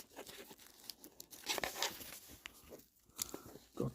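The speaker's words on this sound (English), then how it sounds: "Let's take the plastic off." Plastic wrap being torn and crinkled off a Sea-Gull 1963 chronograph watch on a fabric strap, a run of faint close rustles, rips and crackles coming in uneven bursts.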